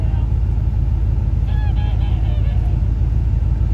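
Several quick goose-like honks in a short burst, heard over a loud, constant rumble of heavy rain.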